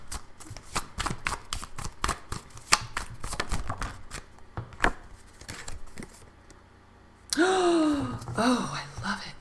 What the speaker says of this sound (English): I'm going to pull one card from my fairy oracle.